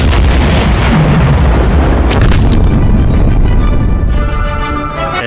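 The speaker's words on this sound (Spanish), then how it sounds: "Jefferies carga un proyectil en su sistema perfeccionado de lanzamiento de hombro y dispara a un objetivo blindado." A WWII shoulder-fired projectile launcher fires at an armored target with a loud, close boom that rolls off into a long decaying rumble, and a second sharp crack follows about two seconds later.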